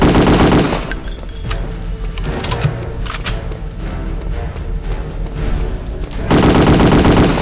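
Tommy gun firing in Return to Castle Wolfenstein, with loud, sustained bursts of automatic fire at the start and end and a steady, noisy game soundscape between them.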